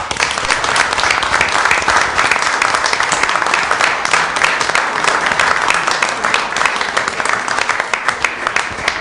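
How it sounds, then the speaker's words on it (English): At a school board meeting, the room gives a long, steady round of applause, dense and even clapping from many hands that fills the whole stretch at constant loudness. "Let's give it another round of applause."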